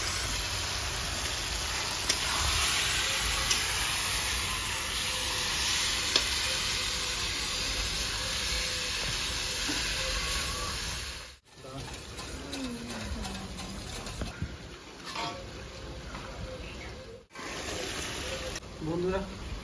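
Water goes into a pan of eggplants simmering for a thin fish and potato curry, giving a steady close sizzle and bubbling with occasional stirring, briefly cut off twice.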